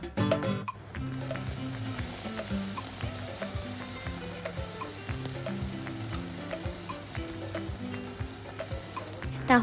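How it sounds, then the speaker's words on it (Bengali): Dal puri fries in oil in a wok, making a steady, close sizzle with light bubbling throughout. "এইভাবে এক এক করে আমি প্রতিটা ডালপুরি ভেজে নিচ্ছি"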